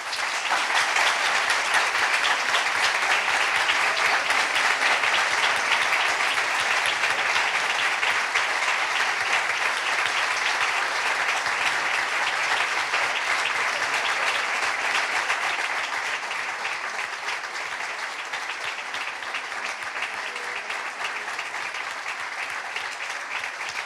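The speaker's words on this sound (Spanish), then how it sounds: "Hacía tiempo que no se oía un aplauso" Prolonged, enthusiastic audience applause after a book presentation in Málaga, dense clapping that holds strong for about fifteen seconds and then eases slightly while continuing.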